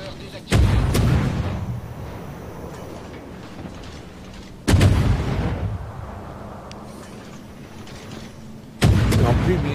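Three heavy naval artillery salvos from World of Warships, each a loud sharp boom that rolls off into a long decaying rumble, spaced about four seconds apart.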